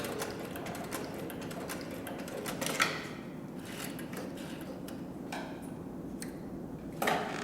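A sewing machine running in reverse through three layers of 2 to 3 ounce leather gives a steady, fairly faint mechanical ticking with no one speaking. Two sharper clicks stand out, one near the start and one near the end.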